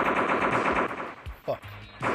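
Rapid automatic gunfire in the blocky shooter Block Strike, a fast rattling burst of shots up close that breaks off into a few separate cracks and thuds near the end.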